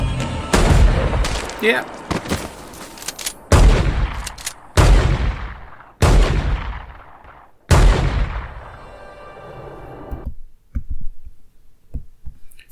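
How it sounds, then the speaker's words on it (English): Loud gunshots from a TV drama ring out in a series of heavy booming blasts, each trailing off in a long echoing decay, with a brief voice near the end. "That was a lot of shots."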